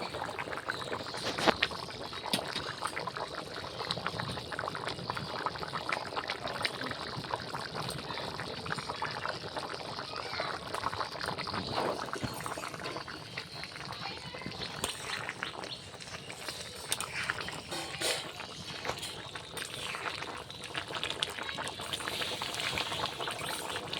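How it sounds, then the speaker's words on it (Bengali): Chicken curry with pumpkin stalks boiling in an oily red gravy in a pot, a steady bubbling and simmering wash that continues without pause and with no talk. "তরকারি ফুটে উঠেছে"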